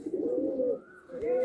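A female pigeon of Andhra or Madrasi fancy stock coos close by in a low, rolling burble, one phrase easing off before a second swells up, with no talking over it.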